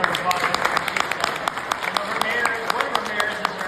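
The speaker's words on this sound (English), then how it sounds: "But let's give a round of applause." An audience at a manufactured housing rally at the Capitol applauds, a steady wash of clapping with distinct individual claps, under and around voices talking.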